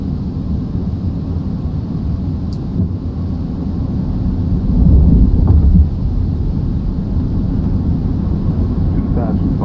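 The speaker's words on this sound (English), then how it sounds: "Landing gear down, please." A Fenix A319's landing gear extends in a flight simulator, heard as a low, continuous rumble that swells briefly about halfway through, beneath steady cockpit noise.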